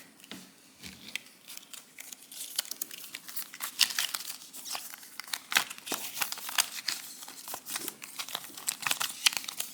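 Close, soft papery riffling and crinkling in quick irregular bursts, like cards being mixed and shuffled by hand, with no voices.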